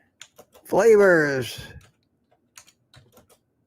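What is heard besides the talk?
typing on a computer keyboard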